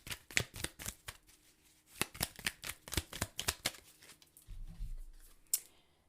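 Tarot cards shuffled by hand, a quick series of crisp riffling slaps and flicks close up and quiet, ending in a soft thud as a card is set down, no talk.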